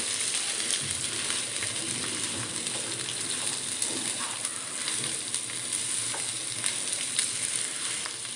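Mashed potatoes get stirred into a spiced tempering in a pan. A continuous soft sizzle runs under faint scraping stir sounds at an even level, close by, with no speech.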